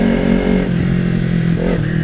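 A Kawasaki Ninja 300 motorcycle accelerates hard, its engine note droning loud and close with a slight rise in pitch toward the end, no talking.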